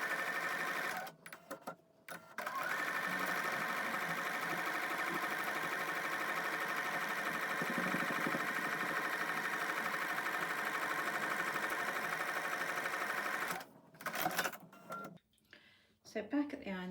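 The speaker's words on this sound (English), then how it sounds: "you will want to have your walking foot on the sewing machine" A sewing machine fitted with a walking foot stitches a bulky quilt seam, running steadily and close for about twelve seconds before stopping and starting in short bursts.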